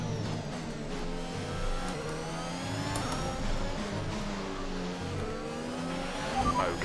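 Engine of a race car in F1 2021 at the Russian Grand Prix, suffering a severe engine issue: a loud, continuous, buzzing engine drone with shifting pitch that holds steadily through the whole stretch, with no talking.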